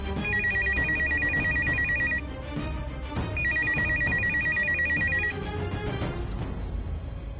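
A telephone rings in two bursts of rapid electronic trilling separated by a short pause, loud and close with no talking.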